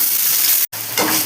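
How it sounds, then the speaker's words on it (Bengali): Fritters made from bitter gourd leaves fry in hot oil while being turned, giving a loud, steady sizzling hiss that breaks off for an instant and then resumes. "বড়ার একদিক ভালোভাবে ভাজা হয়ে গেছে, এবার আরেক দিক ভালোভাবে উল্টে ভেজে নিচ্ছি।"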